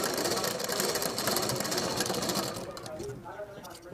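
A sewing machine runs steadily, putting a double line of stitching into a fabric tassel for a blouse back, with a continuous whirring drone that eases off toward the end as a voice talks over it.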